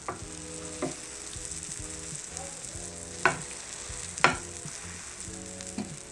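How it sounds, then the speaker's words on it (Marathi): A butter-coated sandwich grills in a pan, giving a steady close sizzle with a few sharp crackling pops rising above it, and no talking. "हे सँडविच जे आहे ते एका बाजूनी छान ग्रिल करून घेणार आहोत"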